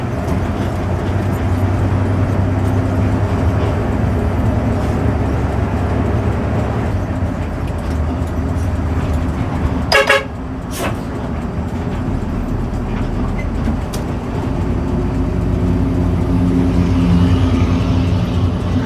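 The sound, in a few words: bus terminal at Jatibening with buses and horns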